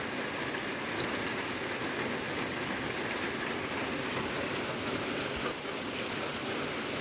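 Steady rain falls continuously over a rural rice-field setting in Thailand, a dense, even hiss holding the same moderate level from start to finish with no voices.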